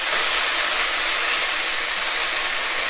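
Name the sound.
pork tenderloin searing in a hot pan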